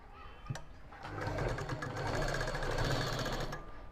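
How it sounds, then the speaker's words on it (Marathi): Sewing machine stitching folded fabric for a latkan tassel, a steady close mechanical whir running for about two and a half seconds after a brief start-up. "आता आपण याच्यावरती शिलाई देऊन घ्यायची आहे"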